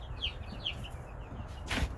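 Young Cornish Cross meat bird chicks on delivery day, a few faint high peeps in quick succession over low room noise, fairly quiet and close by.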